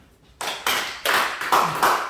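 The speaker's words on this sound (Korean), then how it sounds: "자, 박수 한번 쳐주세요." A church congregation breaks into applause: after a quiet start, clapping rises in several loud close bursts that build into a sustained round.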